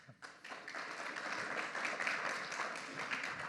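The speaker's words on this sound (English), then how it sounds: "I want to give a big round of applause" Audience applause at a theme park attraction industry conference session, steady clapping from a crowd that swells after a brief start and holds for several seconds.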